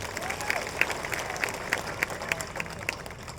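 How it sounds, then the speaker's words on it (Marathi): A crowd at a municipal council election campaign launch rally in Akluj claps in a steady burst of applause, dense overlapping hand claps with distinct sharp claps standing out near the front. "एकदा जोरदार टाळ्या वाजवा त्यासाठी."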